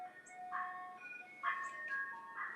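Tinkling ice cream van jingle plays outside as the van drives past, a repeating electronic melody at moderate distance with faint traffic rumble underneath.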